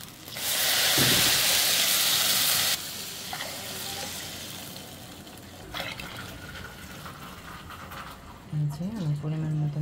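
Water is poured onto hot fried broken rice in a pan, setting off a loud, rushing hiss that cuts off after a couple of seconds and fades to a soft simmer, with a voice near the end.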